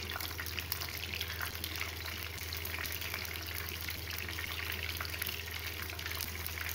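Cumin and kalonji seeds sizzle in hot oil for homemade puri, making a continuous, dense hiss and crackle that stays steady and close, with no voices.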